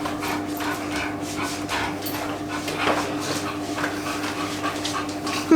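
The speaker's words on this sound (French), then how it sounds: "C'est qu'un gosse qui joue avec son chien." A dog plays with a child indoors, with small scuffling sounds and sharp knocking clatters over a steady background hum, and short faint dog noises mixed in.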